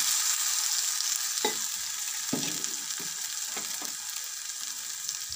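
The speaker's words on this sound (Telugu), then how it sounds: "అల్లం వెల్లిపాయ పేస్ట్ కూడా నూనెలో వేగిపోయిందండి." Ginger garlic paste frying in oil gives a bright, constant hiss throughout, broken by a few soft spatula taps and stirring scrapes near the middle.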